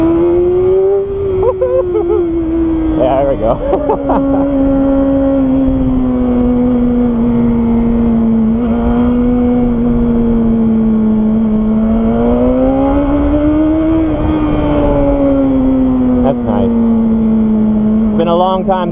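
A BMW S1000RR motorcycle engine revving high and holding a strong, sustained whine that rises and falls in pitch, loud and close, with a short spoken remark over it.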